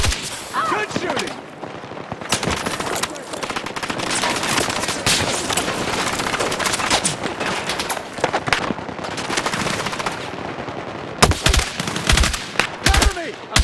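Rapid automatic gunfire and single shots crack nearly nonstop through a Battlefield 6 firefight, loud and dense, with bursts stopping and restarting near the end and faint voices mixed underneath.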